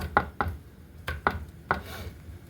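A knife chops garlic cloves on a cutting board: five crisp, close knocks in an uneven rhythm, with quiet gaps between them and no talking.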